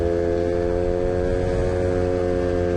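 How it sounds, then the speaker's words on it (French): A quad bike with a brand-new engine being run in drones steadily and close, a continuous buzzing hum at constant revs with no pauses. "Un quad au milieu de la route."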